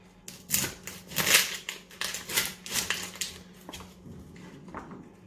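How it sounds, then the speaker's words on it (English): A knife slicing an onion in half on a board, heard as a run of crisp, crunchy cuts and clicks, close up and fairly loud, briefly repeated before tapering off, with no voices. "Take the onion, let's cut it in half."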